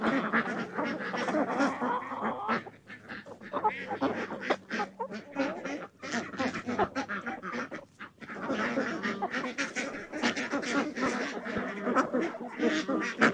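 A flock of ducks on a farm quacking and honking continuously and loudly up close, a dense overlapping chorus of calls with a brief lull near the middle.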